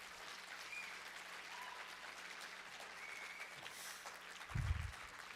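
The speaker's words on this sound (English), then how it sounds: "Would you guys mind just one more round of applause for Coach Grosbeck for me?" Applause from an audience at a senior awards ceremony for Coach Grosbeck, a steady, even wash of clapping throughout with a brief low thump near the end.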